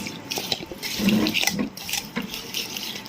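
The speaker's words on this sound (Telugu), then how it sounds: "ఇదంతా కలిపేసుకోవాలి" Lemon pickle ingredients with garlic cloves stirred together in a pot, giving soft scraping, clinking and wet squelching sounds in an uneven rhythm, fairly faint and with no talk.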